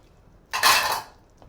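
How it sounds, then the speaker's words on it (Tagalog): Potatoes and carrots dropped into a pot of bulalo beef soup, one short clattering splash lasting about half a second, fairly loud, then quiet. "Kaya ilagay na natin yung patata."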